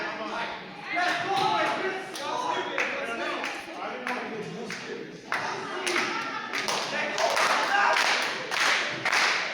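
Wrestling crowd at an independent show clapping in scattered, building bursts for wrestler Melvick, with a commentator talking over the applause throughout.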